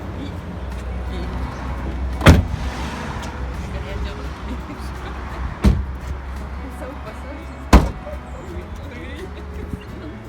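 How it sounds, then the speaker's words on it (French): Car doors on a loaded car shut with three sharp slams spaced a few seconds apart, outdoors over low background rumble and murmuring voices. "Voiture chargée, tu fermes la porte?"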